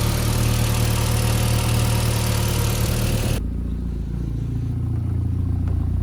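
A VW Jetta MK4 engine idles with a loud, steady hum and a slightly rough low throb, then drops in level partway through as its higher hiss cuts away, leaving a quieter idle.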